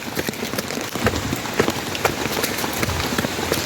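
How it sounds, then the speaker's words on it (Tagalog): Heavy rain pours steadily onto a garden during Typhoon Paolo, a dense, continuous hiss of drops striking plants and ground, loud and unbroken throughout with no voices. "Lakas ng ulan."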